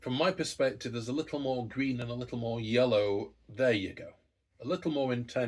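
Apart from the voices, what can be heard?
No everyday noises stand out.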